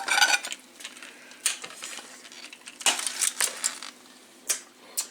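A slice of deli meat pizza goes onto a plate with a few light clinks and taps of plate and utensil, scattered across a quiet moment.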